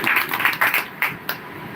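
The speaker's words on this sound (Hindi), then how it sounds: "जोर से ताली लगाते हुए प्रभु का धन्यवाद करें" A church congregation claps loudly together in thanks, with a burst of dense applause that thins into a few separate claps.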